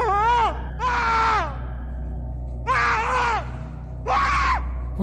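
Repeated loud, drawn-out human screams in a horror setting, four separate bursts of shrieking over a steady low background hum, each lasting around half a second to a second with short gaps between.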